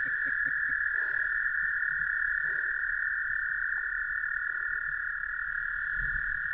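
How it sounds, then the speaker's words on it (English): A large frog, not a spring peeper, calls with a loud, close, unbroken high trill that holds steady throughout, while faint low sounds sit underneath. "So that is a big frog. That is definitely not a peeper."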